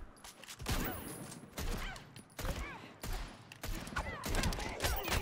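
Gunfire from an opponent's character in the fighting game Injustice 2, as repeated bursts of shots in clusters across the span over a busy game mix, with some voice cutting through.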